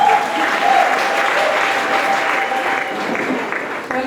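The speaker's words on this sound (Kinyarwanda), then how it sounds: "nayo teyile amashyi kuri Kristo" A church congregation breaks into sustained, dense applause for Christ during a testimony service, steady and full throughout with a faint tone lingering underneath.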